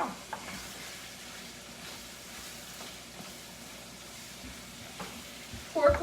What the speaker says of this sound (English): Pork loin in the air fryer.